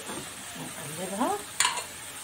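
Shawarma meat sizzles in a frying pan while a utensil stirs and flips it, with a short scrape and a sharp clink of metal near the end, close and fairly quiet.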